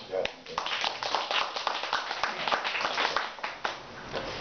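Audience applause at a Korean psychiatric lecture on schizophrenia and depression: a dense patter of many hands clapping steadily for several seconds, fairly loud in the room, with a voice speaking over it.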